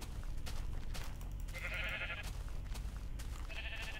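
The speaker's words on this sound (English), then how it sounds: "that's a lot of sheep" Sheep in the Minecraft video game bleat twice in short nasal bursts, over a steady low background rumble and game ambience, with no talking.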